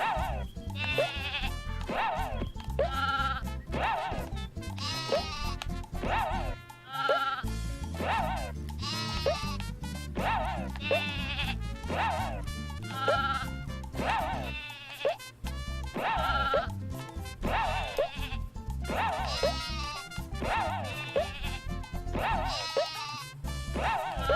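Repeated sheep bleats in quick succession over a busy, bouncy electronic backing tune in the sheep game of Croc: Legend of the Gobbos on PlayStation, loud and continuous throughout.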